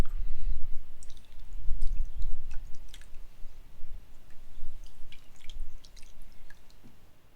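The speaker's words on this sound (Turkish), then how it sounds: "iyice karıştırdıktan sonra bir tülbentten süzüyoruz" Liquid is strained through cheesecloth, giving soft, close squishing and wet squeezing sounds with scattered small drips and clicks, fairly quiet and uneven throughout.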